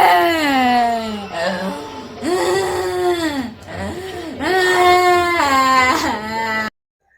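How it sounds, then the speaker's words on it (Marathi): A young girl cries loudly and continuously after her spoon is taken, a close wailing sob with rising and falling pitch and short breaks for breath, cutting off abruptly at the end. "मी फक्त व्हिडिओ काढण्यासाठी तिचा चमचा उचलला होता आणि त्यामुळेच तिचं रडणं चालू होतं"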